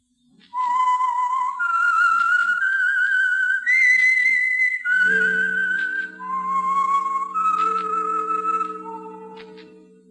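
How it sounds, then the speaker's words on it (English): A clear solo whistled melody, the theme signal of The Whistler radio program, rising and falling in sustained notes for about ten seconds with low accompaniment joining midway. "That whistle is your signal for the Signal Oil program, The Whistler."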